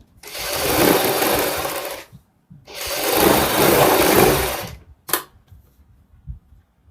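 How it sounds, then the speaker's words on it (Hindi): A sewing machine stitches along a kurti neckline in two steady whirring runs of about two seconds each, close and loud, followed by a short clack. "इसके ऊपर हम एक बार फिर सिलाई लगाएंगे।"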